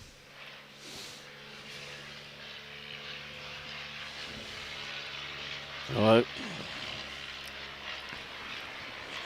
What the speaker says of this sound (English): Got a plane going over by the sounds of it.